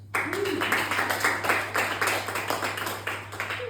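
A comedy club crowd claps and whoops across the whole stretch, a dense, steady roar of applause with cheering voices layered on top, loud and close throughout.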